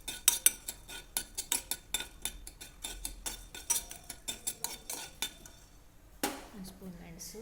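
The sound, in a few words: dry-roasting black pepper in a pan, stirring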